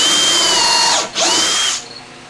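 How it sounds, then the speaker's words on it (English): A power drill pre-drills a screw hole in a wooden cabinet, its motor whining loud and close, dipping briefly mid-way as the bit bites, then winding down. "What I'll do is I'll pre-drill for my first screw."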